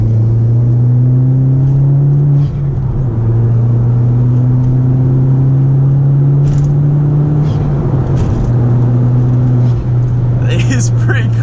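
VW Golf 1.8T Stage 2 accelerating hard, a steady loud engine drone with a sustained low tone held throughout, briefly dipping between shifts, with someone talking over it.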